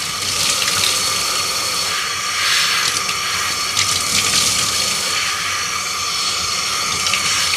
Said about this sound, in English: Really getting this filter very soaked.